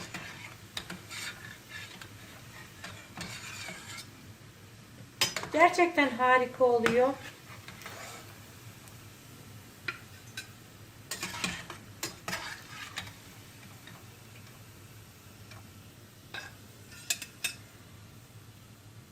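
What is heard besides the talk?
meatballs frying in oil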